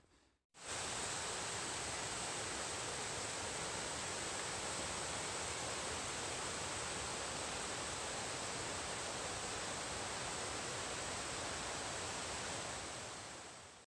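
A waterfall along the Appalachian Trail roars as a dense, unbroken rush of water, loud and close, holding steady from start to finish with no voices.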